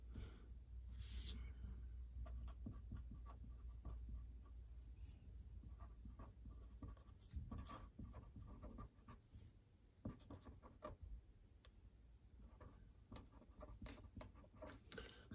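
Pen or marker writing on a surface, a quiet, steady run of scratchy strokes and taps with short pauses between them.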